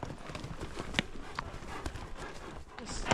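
A horse being trained on a ranch drive clip-clops along in an uneven rhythm of hoof strikes, moderately close, over outdoor background noise with some faint speech.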